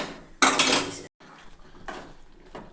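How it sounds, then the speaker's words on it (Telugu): A metal lid clatters onto a cooking pot of onion kurma, one sharp loud clank followed by a pause and then a couple of lighter scraping knocks nearby. "మూత పెట్టేసుకోవాలి."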